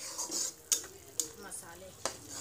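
Spices frying in a pan for chicken curry, a soft low sizzle broken by three or four sharp scrapes and clinks of a spoon against the pan, close and fairly quiet.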